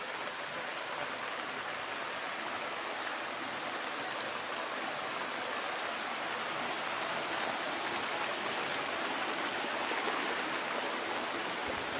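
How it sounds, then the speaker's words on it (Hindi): Rushing water pours and splashes continuously from all sides down a hillside in the Satpura hills, a dense steady roar like a stream or runoff, with no voices. "यहाँ पर चारों तरफ से पानी बहकर आता है।"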